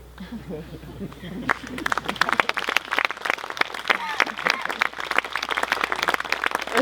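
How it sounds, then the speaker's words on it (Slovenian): Audience applause at a 75th anniversary celebration of a chemistry institute, building from quiet murmur into dense, sustained clapping that fills the hall, with faint voices mixed in. "Zaslužen aplavz"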